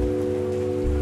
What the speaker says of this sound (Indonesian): sesuai dengan keadaan yang mungkin terdengar lah sekarang ya, hujan.